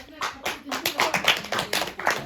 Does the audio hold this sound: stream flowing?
no